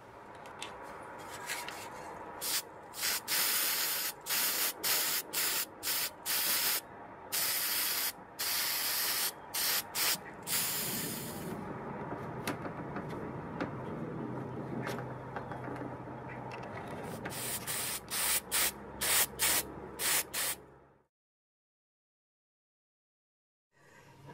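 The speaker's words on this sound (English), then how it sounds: "I want to paint it first with a hammering type paint" Spray can applying hammered-finish paint to a handmade robot, close sharp hissing bursts in quick rhythmic succession, then a steadier stretch and another run of short sprays before silence.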